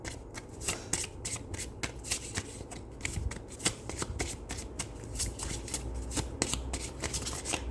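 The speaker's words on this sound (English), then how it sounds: "So one thing that's coming to me as I'm shuffling for pile 3" Tarot cards are shuffled close up in quick repeated riffles, a crisp flapping patter with brief pauses between bursts.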